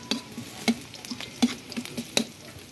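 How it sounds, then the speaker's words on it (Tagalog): Garlic and onion frying in a pan, a soft continuous sizzle broken by a series of sharp spatula scrapes and taps in an uneven rhythm, close by with no talking. "Medyo tostahin lang natin yung kanyang bawang at onion."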